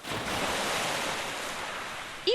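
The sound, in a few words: waves crashing at a lakeshore, from the video game Cafe Enchante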